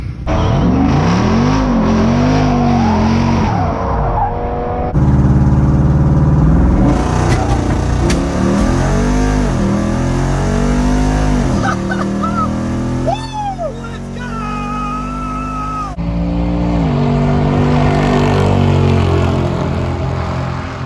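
A Jeep Wrangler Rubicon 392 on massive tires drag races a 370Z, loud engines roaring and revving through gear changes with rising and falling pitch, close and powerful throughout.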